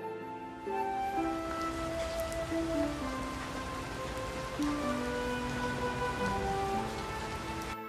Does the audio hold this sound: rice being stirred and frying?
no